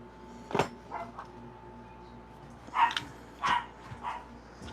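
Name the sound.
small dog barking at other dogs seen on cameras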